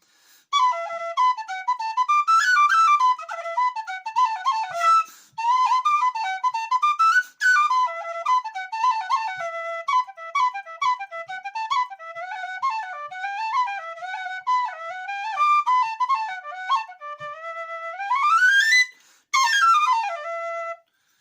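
A tin whistle with a Thomann head fitted on a Sasato body plays a lively, ornamented melody alone, close and fairly loud, with brief pauses between phrases.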